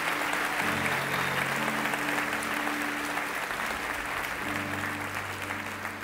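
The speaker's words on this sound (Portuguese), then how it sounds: "Você pode aplaudir bem forte Jesus por causa disso?" A church congregation applauding loudly during a sermon, a sustained dense roar of clapping filling the room, with a low organ or keyboard chord droning underneath.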